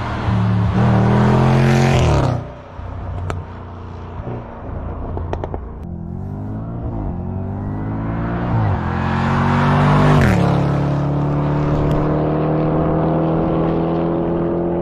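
A 575 hp SVR car driving fast through desert sand, a loud close engine roar that drops abruptly as revs fall, then builds again in a rising, strained pull with the sound of sand being churned up, no talking.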